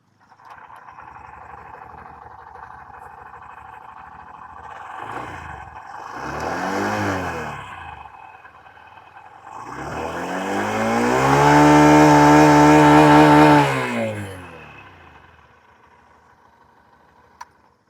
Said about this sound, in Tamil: நம்ம முதல்ல ஷைன் 125 எக்ஸாஸ்ட் ரோட் கேட்போம்.